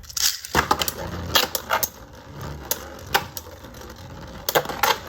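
Beyblade spinning tops, Lord Spriggan and Wizard Fafnir, launched into a plastic stadium, giving sharp metallic clicks and scattered clashing impacts, with a buzzing whir between hits.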